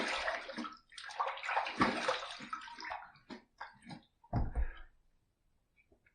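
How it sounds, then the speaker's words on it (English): Water splashing and running in bursts as a razor is rinsed after a shave, several sloshing gushes of varying length, then fading to near silence with a few faint drips. "Let's rinse."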